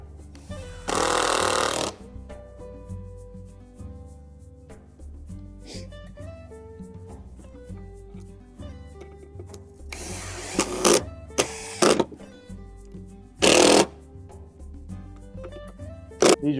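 A power drill drives 3-inch drywall screws into a whitetail deer taxidermy form, with a skull cap in place. Several short, loud whirring bursts stand out against a quieter tonal background with steady hum between them.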